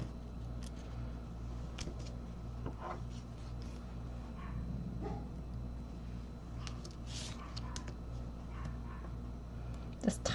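A tiny 2.5-pound neighbour's dog barks while large dogs answer with their own barks, the calls scattered and fairly faint against a steady low hum, with some voices in the background.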